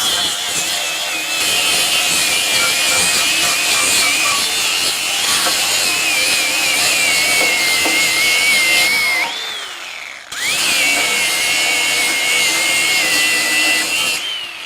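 DeWalt FlexVolt DCG416 angle grinder with its wheel forced hard against metal, a loud continuous high whine with grinding noise that bogs and pitch-drops near the ninth second, briefly cuts out, then spins back up and grinds on.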